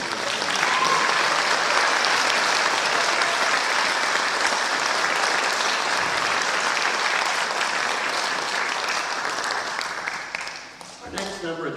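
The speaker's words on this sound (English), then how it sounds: "one more round of applause for" Sustained, dense applause from a concert audience at a spring hometown concert, loud and steady for about ten seconds before thinning out at the end.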